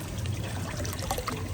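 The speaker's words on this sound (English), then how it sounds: "So that now is topping up my pond with rainwater" Rainwater pours steadily into a garden pond, a continuous broadband splashing and trickling that stays even and close for the whole stretch, with no voices.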